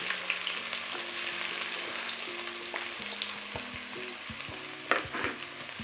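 Onions fry in hot oil in a pan with a continuous close sizzle, broken by repeated stirring scrapes and a louder clank near the end.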